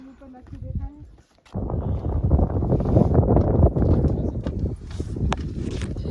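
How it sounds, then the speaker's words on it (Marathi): Wind gusts across the stone stairway path up Girnar mountain in Gujarat, a loud, close rumble of buffeting air on the microphone that builds after a short quieter start, with a voice speaking over it. "असा मस्त ए सी सारखा वारा येतो"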